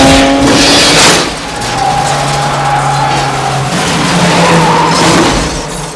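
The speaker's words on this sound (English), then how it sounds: "And speaking of car chases" Film car chase from Ronin with tires skidding and engines roaring, a loud continuous mix of screeching rubber and motor noise that swells and eases across the scene.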